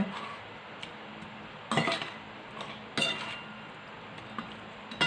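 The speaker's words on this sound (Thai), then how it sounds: "คนน้ำยำให้เข้ากับ ลูกจัน ที่เราเตรียมเอาไว้นะคะ" A spoon scrapes and clinks against a bowl while Thai salad dressing is mixed into gac fruit for a shrimp salad, soft, close stirring broken by three or four louder metallic knocks at irregular intervals.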